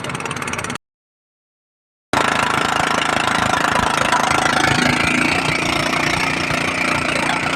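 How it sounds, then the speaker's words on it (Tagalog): A concrete vibrator engine at cell site tower work in Gattaran, Cagayan cuts out briefly, then runs loud and close with a harsh, rapid rattling drone that holds steady to the end. "Nagwawala na yung aming vibrator."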